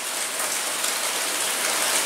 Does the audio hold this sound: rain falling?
yes